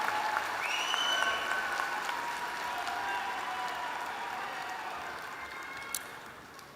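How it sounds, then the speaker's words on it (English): Broad, steady applause from a commencement crowd at the Cox School of Business 2024 graduate ceremony, honoring full-time two-year MBA graduates, heard at moderate distance with faint voices mixed in and a gradual fade. "One more round of applause for the 2024 graduates of the full-time two-year MBA program."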